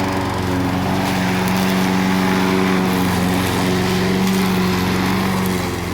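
A 2003 Craftsman self-propelled lawn mower engine runs at a steady, loud, close drone with a constant buzzing hum for several seconds, no talking over it.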